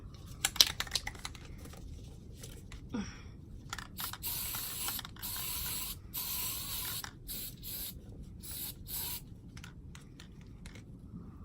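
A spray can misting paint onto a wedding DIY project, short close hissing bursts repeated in irregular spurts with quiet gaps, after a few faint clicks at the start.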